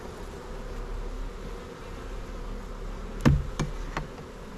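Honey bees droning steadily inside an open hive during an inspection of a deep brood box packed with capped honey, a low continuous hum with a few sharp knocks and taps of frames near the end.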